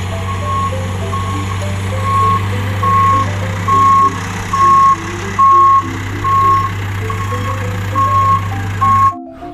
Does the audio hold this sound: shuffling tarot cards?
no